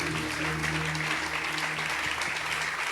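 A church congregation breaks into sustained, dense applause, steady and full throughout, with a faint low tonal hum beneath the clapping.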